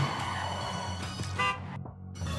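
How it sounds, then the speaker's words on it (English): A truck horn honks in the Clustertruck video game, a sustained blaring toot with a bright harmonic stack that rises over steady game engine noise, then cuts off briefly before the background resumes. "Don't honk at me."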